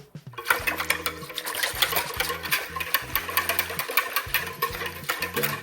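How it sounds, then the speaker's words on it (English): A mechanical whisk or mixer whirs in short on-off bursts while extra virgin olive oil is blended into a sourdough sandwich bread mixture, with the motor's buzzing hum close and clear and no talk. "And we'll whisk it up again."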